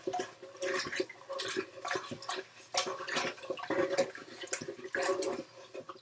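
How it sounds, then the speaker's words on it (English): Water sloshes and swirls as salt and brown sugar are stirred into turkey brine in a container, a close, continuous splashing with uneven rhythmic surges and no talk. "now you're going to start to stir this all around."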